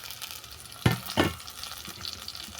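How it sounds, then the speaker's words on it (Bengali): Vegetables dropped into a pan of softened fried onions, with two loud sizzling bursts as they hit the hot oil, then a quieter steady frying crackle. No one talks. "পেঁয়াজটা ভাজতে ভাজতে নরম হয়ে গেছে এর মধ্যে সবজিগুলোকে দিয়ে দিচ্ছি"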